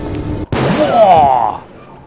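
A gunshot blast from the video game Parasite Eve 2 cuts in abruptly and rings out with a loud, reverberant decay, preceded by a brief spoken voice.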